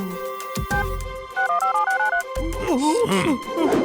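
Phone keypad tones beep in a quick run of about eight short presses as a number is dialled to call the police, then excited voices and warbling sounds take over.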